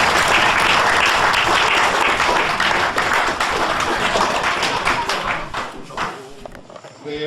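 A club crowd applauds Mitch at a cricket club presentation night, loud sustained clapping from a room full of people that gradually tapers off into scattered claps toward the end.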